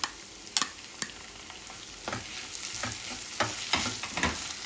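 Tomato and cashew nut paste hits golden sautéed onion in a pan, with a continuous sizzle broken by repeated sharp scrapes and clacks of stirring, close and fairly loud, with no talking.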